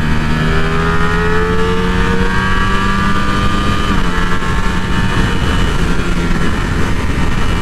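Ducati Streetfighter V4 SP motorcycle engine roaring steadily under acceleration, a loud continuous drone with rising harmonic tones and a brief gear-change dip partway through.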